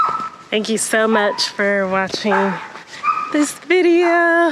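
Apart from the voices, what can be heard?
dog barking in the background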